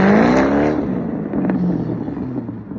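A Chevrolet C6 Corvette cruises on the highway at around 75 mph, its engine note loud at first and then easing into a steady road and wind rush.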